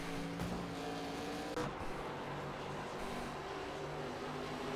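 ARCA Menards Series race cars in the iRacing simulation at Nashville Fairgrounds drone steadily at high revs, with a couple of brief passing swells. The engine noise forms a dense, constant roar at a moderate level and no one speaks.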